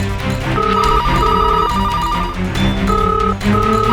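A telephone rings in repeated electronic trills in a Hindi TV drama scene, pausing between rings, over a busy background of other sound.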